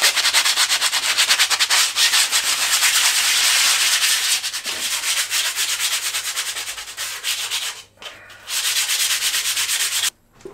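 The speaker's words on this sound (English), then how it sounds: "I filed them down as you saw, or sanded them down as you saw" Hand sanding of wooden parts for a homemade coffee table makes a loud, steady abrasive rubbing in quick back-and-forth strokes, broken by a short pause and then a final stop near the end.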